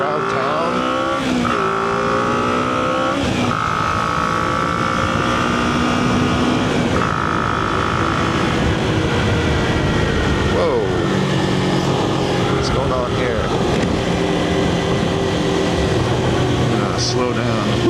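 Motorcycle ridden at road speed, with a steady engine drone, shifting tones as it revs and eases off, and constant wind roar across the whole stretch; a rider's voice comes and goes over it.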